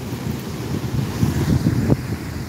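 Strong storm-surge wind and crashing sea waves batter the seawall at Nato Port, Sagñay, Camarines Sur in Bicol: loud, constant blustering roar buffeting the microphone, with surf surging and peaking near the end.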